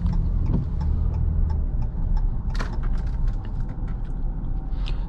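A 2015 Jeep Cherokee Limited V6 on the move: a steady, moderate hum of engine and road noise from inside the cabin, with a few light ticks and rattles.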